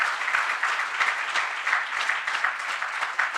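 Audience applause fills an orientation event hall, a steady dense wash of many hands clapping throughout, loud and sustained with no voices over it.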